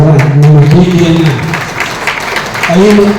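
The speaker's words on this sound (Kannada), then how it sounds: "ದಯವಿಟ್ಟು ಚಪ್ಪಾಳೆ ಮುಖಾಂತರ ನಮ್ಮ ಕೀರ್ತಿಯನ್ನು" Audience applause at a felicitation ceremony, a steady wash of clapping under a speaker's amplified voice throughout.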